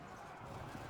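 Horse archers' hooves during a Byzantine campaign battle in the Field of Glory II strategy game come through as a steady, dense rumble of massed galloping that holds level for the whole second.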